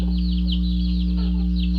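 Hens in a farm poultry yard cluck repeatedly in short, close chirping calls over a steady low mechanical hum, with no talking.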